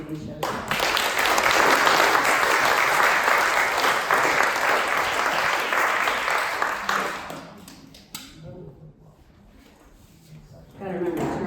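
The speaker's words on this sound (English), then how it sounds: "So I want to give a big round of applause to Derek" Audience applause at an art show gathering, a steady burst of clapping for about seven seconds that fades out, followed by quieter room noise and a brief bit of talking near the end.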